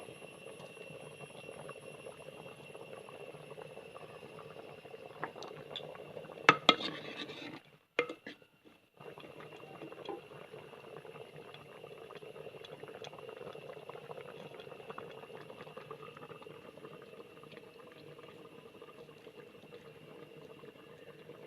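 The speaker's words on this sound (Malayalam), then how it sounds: "നന്നായി തിളച്ച് വന്നിട്ടുണ്ട്" Ripe mango pulissery curry, a sour yogurt-style Kerala dish, bubbles quietly in a pot, a faint steady simmer with a brief clatter of a utensil partway through and a tonal hum in the background.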